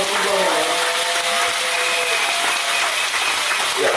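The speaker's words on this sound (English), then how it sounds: "Andy, give Andy a big round of applause" A round of applause for Andy at a cottage political meeting in Sangre Grande: steady, fairly faint clapping from a gathered crowd, continuous throughout with a mechanical hum and some voices beneath.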